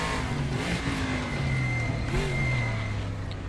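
Race car engines in a racing simulator game, a mix of turbo motors and big American V8s from the silhouette-racer era. A loud, continuous engine drone shifts pitch as the cars rev and change gear, with no talking.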